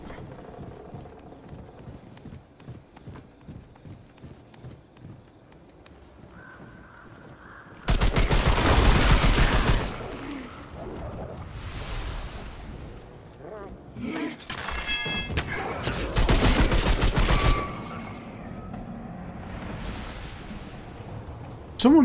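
Gunfire bursts from the grim shooter Remnant 2, with loud dense volleys around the middle of the stretch and quieter shots between, under occasional talk.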